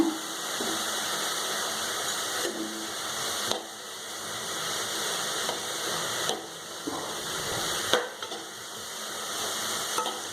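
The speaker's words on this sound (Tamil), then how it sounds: "நல்லா கிளறி விட்டுருங்க." Snake gourd sizzles steadily with turmeric in a hot pan while a utensil scrapes and stirs it now and then, producing occasional clinks.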